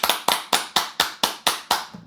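Eight crisp hand claps in a steady, even rhythm, close and loud, with no talking in between.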